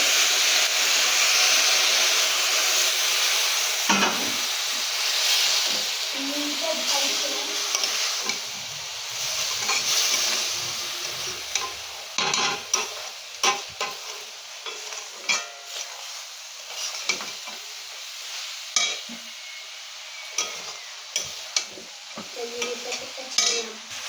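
Boiled milk goes a little at a time into a hot, sweet Sreemoyee dessert mixture in a pan, giving a broad hiss that fades into ongoing stirring, with repeated scrapes and soft clatters of a spoon.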